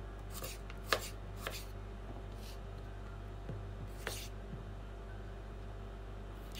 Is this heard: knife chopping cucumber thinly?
yes